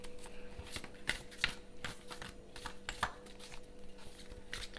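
Tarot cards shuffled by hand in a steady run of papery riffles and soft slaps, close and fairly quiet, with no voice over them.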